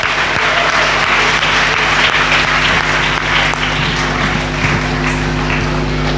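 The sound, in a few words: congregation clapping hands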